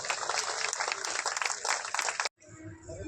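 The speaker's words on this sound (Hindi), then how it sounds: "जोरदार ताली बजाएंगे।" Audience at a Chhattisgarh health camp land-worship ceremony breaks into loud, dense applause that runs steadily for a couple of seconds, then stops abruptly, leaving quieter room noise.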